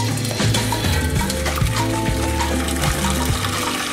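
Water pours into a pot of Hungarian goulash being cooked with a little oil, a steady, close, fairly loud rush of liquid with stirring and sizzling mixed in.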